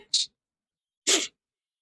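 Two quick, sharp sneezes about a second apart, close and loud against silence.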